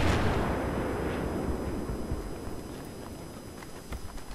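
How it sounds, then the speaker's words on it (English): A building explosion in the video game Battlefield 3: a loud blast at the start trailing into a long rumbling decay over continuous battle noise, with scattered distant gunfire later. "There's just an explosion there on the building."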